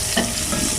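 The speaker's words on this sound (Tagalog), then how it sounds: "maglagay tayo ng mantika sa ating kaserola at ikita muna natin ang luya" Ginger frying in oil in a casserole pan for chicken adobo, a brief soft sizzle with a light stirring scrape, close and alone.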